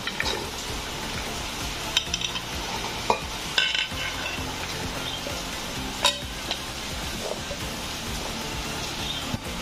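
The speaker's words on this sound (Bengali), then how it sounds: "ঢ্যাঁড়সগুলো আমি একটা গামলার মধ্যে ঢেলে দিচ্ছি।" Freshly cut okra tumbles from a container into a bowl, giving a steady rustling, clattering shuffle with a few sharper knocks against the bowl, close and alone.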